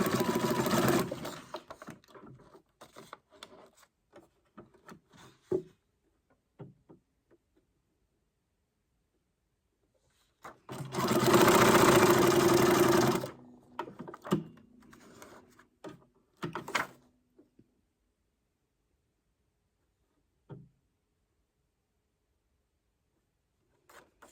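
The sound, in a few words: sewing machine sewing on paper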